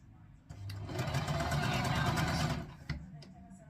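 A sewing machine runs in a short steady burst of rapid stitching while joining the front seam of a drawstring skirt, close and whirring for about two seconds, framed by a few clicks of the fabric being handled.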